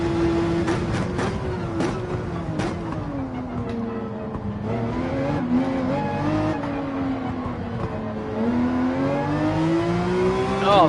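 Race car engine held at full throttle in Gran Turismo 7, a loud, rising and falling wail with quick upshift clicks, near and continuous.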